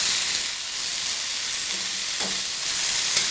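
Boiled Chinese potatoes (siru kizhangu), cooked earlier with salt, being sautéed in a pan for a poriyal fry: a steady hissing sizzle with faint stirring scrapes, close and unbroken.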